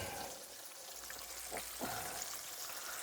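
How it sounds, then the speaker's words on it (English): A steady, quiet sizzle of Southern fried chicken in a skillet on a double burner, with a couple of soft clinks or stirring sounds midway. "Perfect for frying chicken on."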